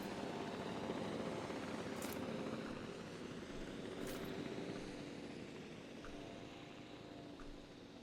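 A helicopter airlift in the Jurassic Park video game gives a steady, faint rotor and engine drone that fades slightly over time, with a couple of soft interface blips and no speech.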